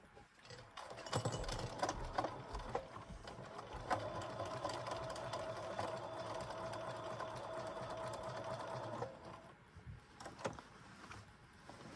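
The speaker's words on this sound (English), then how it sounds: "Now I'm going to just do a straight stitch around this window" Sewing machine running a straight stitch around a patchwork window on denim jeans, a steady close mechanical whir for about eight seconds before it slows and stops, fairly quiet with no talk.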